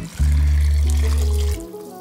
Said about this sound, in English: I'm gonna put in 8 cups of water.